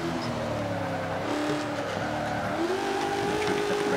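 A 1995 Ford Cobra in the racing game Forza 5 holds a loud, steady engine roar as it brakes, with tire squeal rising in pitch over the last second and a half.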